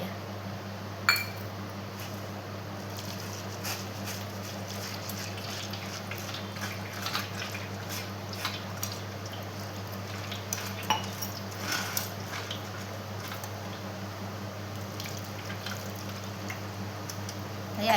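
Poha (flattened rice) being washed in water in a bowl in a home kitchen, with soft sloshing and occasional clinks of a utensil against the bowl, quiet and close with no talking.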